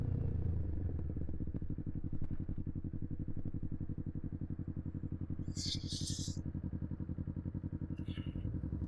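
Motorcycle riding along a road, its engine a steady close rumbling drone throughout with a faint rhythmic pulse, and a couple of brief high hissing bursts near the end.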